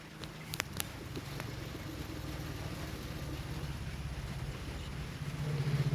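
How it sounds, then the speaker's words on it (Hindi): A sewing machine stitches along the edge of a double katori blouse with a steady, low mechanical hum that grows slightly louder toward the end, recorded close and quiet with no voices. "किनारे किनारे पे एक सिलाई कर रही हूँ।"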